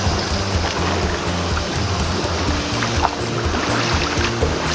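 River water rushes over a shallow stream crossing, a constant close wash of gurgling and splashing with no voices.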